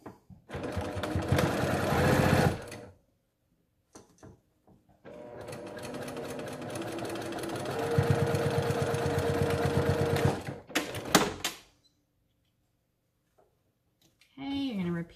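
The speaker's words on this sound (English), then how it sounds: "now I'm going to sew my flaps down" A sewing machine stitches down the flaps of a fabric 3D box mask, running in fast, loud bursts of a few seconds with short pauses between them. A brief burst of a voice follows at the end.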